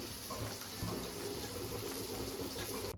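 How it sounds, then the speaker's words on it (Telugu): Water is poured into sour curd while making majjiga pulusu, a Telugu buttermilk curry with bajjis, giving a steady, close splashing rush that lasts the whole time with no talking. "ఒక కప్పు పెరుగుకి నేను ఒక త్రీ కప్స్ వాటర్ వేస్తున్నామా"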